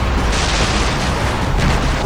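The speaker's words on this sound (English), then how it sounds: "Did you see that explosion?" A video game explosion fills the stretch as a loud, dense, continuous roar of rumbling blast noise, close and sustained for about two seconds.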